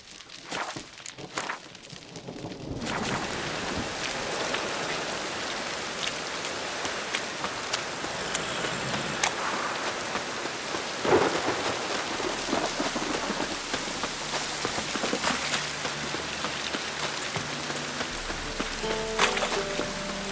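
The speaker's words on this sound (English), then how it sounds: "And it's raining again." Steady rain hisses and patters across surfaces in the Witcher 3 game world, continuous and fairly dense, with scattered footsteps and a faint low rumble of thunder in the background.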